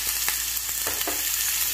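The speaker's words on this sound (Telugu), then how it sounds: "సో ఆయిల్ హీట్ ఎక్కిందండి, ఆనియన్స్ వేసేసుకుంటున్నాను, ఆనియన్స్ కొంచెం ఫ్రై అవ్వాలి।" Onions fry in hot oil for brinjal masala, a steady close sizzle with small crackles and light scraping, no voices.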